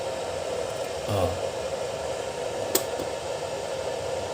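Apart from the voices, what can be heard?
electric fan running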